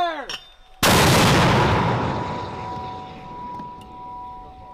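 A single loud gunshot from a cavalry scout vehicle's mounted weapon during a live-fire exercise at Camp Shelby, a sharp blast at close range followed by a long rolling echo that slowly fades.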